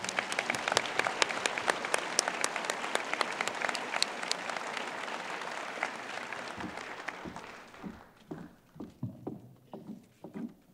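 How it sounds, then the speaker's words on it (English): Audience at a high school Veterans Day rally ceremony applauds with dense, sustained clapping that fades after several seconds into a few scattered claps. "Let's give them all a round of applause, please."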